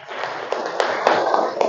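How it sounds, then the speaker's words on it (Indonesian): Classmates in an Indonesian school classroom clap for a student group, a dense, steady patter of hand claps with a few sharper claps standing out, lasting under two seconds. "Tepuk tangan dulu untuk kelompok 1."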